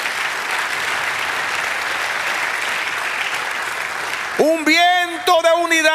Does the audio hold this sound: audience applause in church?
yes